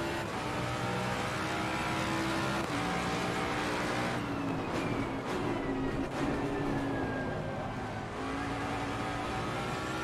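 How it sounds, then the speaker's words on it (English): Ferrari race car engine from the racing game Assetto Corsa Competizione, a loud sustained roar with shifting revs as a car passes close behind, continuous through the whole stretch. "But it sounds like a Ferrari, and I think he was driving a Ferrari."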